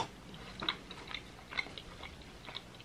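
Close, quiet chewing of spicy, cheesy, chewy rice cakes, soft wet bites with a few sharper crunchy smacks spread across the moment, no talking.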